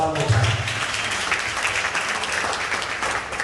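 Audience applause at a Mende naming ceremony in Sierra Leone, a steady crowd of clapping hands sustained for several seconds, with a voice speaking briefly near the start.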